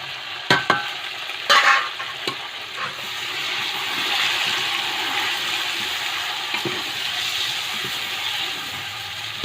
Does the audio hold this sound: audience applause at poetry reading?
no